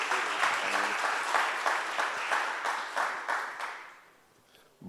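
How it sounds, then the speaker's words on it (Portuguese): A church congregation claps during a sermon service, a full room of steady applause that gradually thins and fades out near the end. "Vamos aplaudir ao Senhor, queridos."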